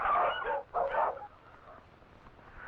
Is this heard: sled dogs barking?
yes